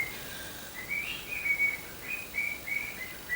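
A pet bird whistles in bright, repeated phrases, clear and fairly close, with brief pauses between bursts and no talking.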